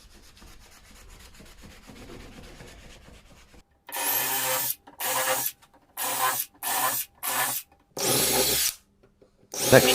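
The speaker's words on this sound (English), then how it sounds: "Next, Jacob countersinked some holes into the tabletop, making sure these was aligned perfectly symmetrical so they looked smart" A drill countersinks holes in a wooden tabletop made from a whisky barrel: after a low background hum, loud grinding bursts come in six or seven separate pulses, close up, each lasting about half a second to a second.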